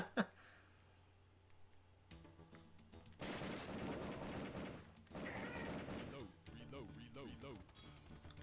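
Rapid gunfire from an arcade-mode shooting video game comes in two dense bursts of several seconds each, loud and close, with a person speaking between and over the shots.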